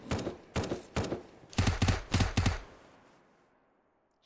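Turret gunfire in the SurrounDead video game: several separate loud bursts of rapid shots, then a tight cluster of heavier bursts, before the sound fades into a quiet decaying tail.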